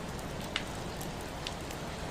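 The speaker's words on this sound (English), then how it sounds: "The rain on the window has become something you are no longer really hearing, so much as feeling." Steady rain on a tearoom window, a dense even patter with a few sharper drops ticking through, close and constant with no voices.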